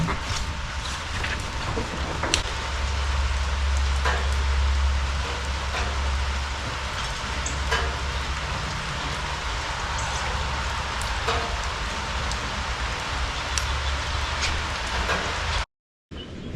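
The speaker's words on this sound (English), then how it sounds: "As you can see, it's raining out here today again" Rain falling outdoors in a garden, a steady, even hiss of drops with a low rumble underneath, continuing throughout before cutting out briefly at the end.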